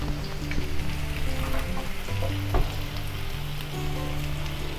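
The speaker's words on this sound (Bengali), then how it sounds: "রসুনটা হালকা একটু ভাজা হয়ে গেলে আমি এটার মধ্যে পেঁয়াজ দিয়ে দিচ্ছি" Onions and garlic frying in a pan, giving a loud, steady sizzle with occasional stirring clatter, close up and alone.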